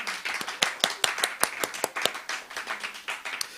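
Audience at a learning city event clapping for the day's speakers, a small group whose distinct, individual claps stay spaced and uneven throughout the short burst.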